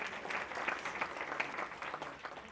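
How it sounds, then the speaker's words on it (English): A room of guests at a women's achievement awards event gives a round of applause for a helper, a quiet, fairly distant patter of clapping that holds steady throughout with no speech over it. "You can clap for him anyway."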